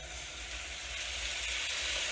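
Ingredients for navy bean soup sauteing in a pot, a soft continuous sizzle held at a low, even level, steady throughout.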